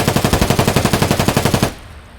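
A Mutant rifle fires a rapid full-auto burst in Escape from Tarkov, roughly twenty loud evenly spaced shots in quick rhythm, then the fire cuts off into a quiet tail.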